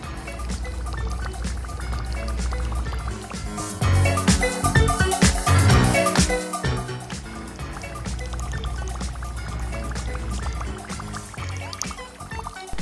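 A Whopper Plopper topwater fishing lure pulled across the surface, its rear prop churning and splashing steadily, with a louder stretch of gurgling water in the middle, heard close.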